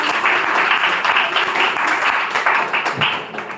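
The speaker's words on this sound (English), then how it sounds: "Let's give a huge round of applause for her." An audience claps loudly and continuously, a dense burst of applause with no pause.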